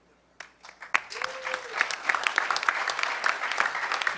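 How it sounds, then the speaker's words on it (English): A crowd at a hacker conference breaks into applause for hackerspaces.org, starting with a few claps and a sharp knock, then swelling into steady, sustained clapping with a brief tonal whoop near the start. "Huge round of applause for hackerspaces.org."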